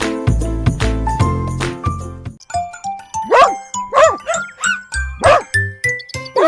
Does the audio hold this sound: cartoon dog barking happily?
yes